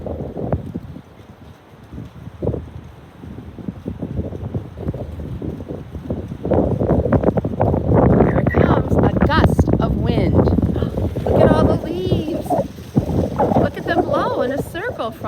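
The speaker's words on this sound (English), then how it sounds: "So today is a partly cloudy and very windy day." Strong wind on a partly cloudy, very windy day, building from a softer rush into a loud, continuous roar with gusty buffeting against the microphone.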